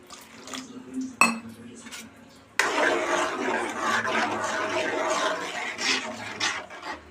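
Water is poured into a hot frying pan of cooking greens, giving a sudden rush of sizzling and splashing that carries on steadily after some brief clinks of utensils on the pan, with no speech.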